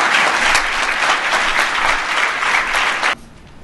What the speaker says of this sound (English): President Paul Kagame of the Republic of Rwanda deserves a round of applause